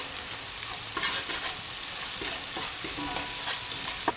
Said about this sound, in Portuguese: Deixar dourar bem o alho com sal.